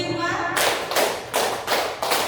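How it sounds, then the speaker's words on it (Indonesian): A group claps hands together in time, five sharp, loud bursts landing about every 0.4 seconds, close and clear with no voices over them. "tepuk 5"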